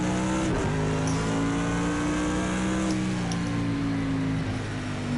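A Bentley GT3 race car engine in the racing game Project Cars 2, loud and close, holding a steady high-revving drone with a brief shift dip, racing onward without pause.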